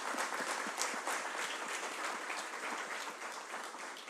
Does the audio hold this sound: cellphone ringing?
no